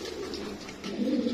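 A pigeon at a fancy pigeon sale gives a soft, low cooing call that swells louder toward the end, heard close and alone without talk.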